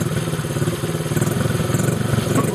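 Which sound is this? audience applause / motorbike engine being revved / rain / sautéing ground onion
motorbike engine being revved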